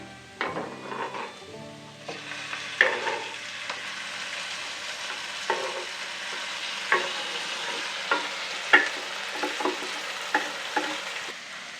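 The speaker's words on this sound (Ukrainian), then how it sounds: "Перемішуємо, додаємо перчик." Onions frying in a pan until golden, with a steady sizzle and repeated scraping stirs of a utensil across the pan, alone and fairly quiet.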